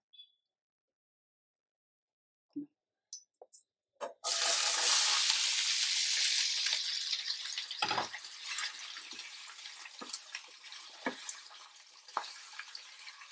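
Sliced ivy gourd (dondakaya) for an onion-spiced dish hits a hot pan after a few soft clicks, bursting into a loud, close sizzle that slowly settles, broken by occasional stirring clatters.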